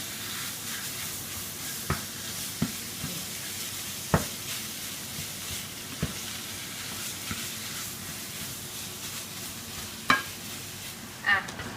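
Pork stir-frying with curry paste in a pan for northern Thai khanom jeen nam ngiao, a soft continuous sizzle broken by periodic spatula scrapes and knocks, close but fairly quiet.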